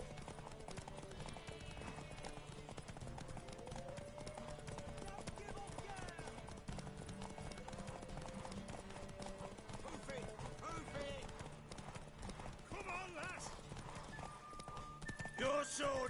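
Horse hooves clip-clop steadily through a medieval fantasy game world in The Witcher 3: Wild Hunt, layered with music and character dialogue, with a horse whinny near the end.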